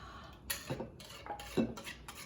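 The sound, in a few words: whisk stirring in a bowl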